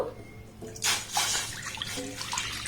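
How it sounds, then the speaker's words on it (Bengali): Milk pours into a pan already holding a little water, a short liquid splash and gurgle that swells after a quiet start, made for mango rice pudding. "এবার এখানে আমি এক লিটার দুধ দিয়ে দেব"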